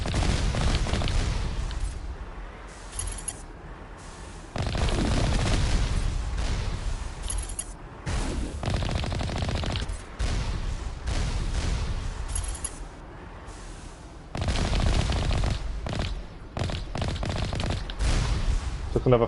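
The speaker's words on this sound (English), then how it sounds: "Trying to avoid getting hit by them rockets. They're the ones that do the most damage." Rockets and heavy gunfire in Mass Effect combat strike near the player, with repeated loud blasts and bursts separated by short lulls across the fight.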